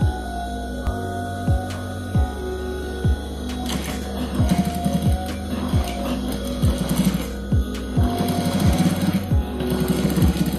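A sewing machine stitches a fabric bag, its needle thumping in a steady rhythmic pulse, loud and close, with a constant motor whir running underneath.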